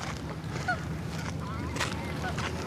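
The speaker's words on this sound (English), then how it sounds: "There's a lot of baby geese right now." Baby geese honk and peep with thin, scattered calls against a steady outdoor background near Denver, faint and partly buried, with a voice speaking briefly.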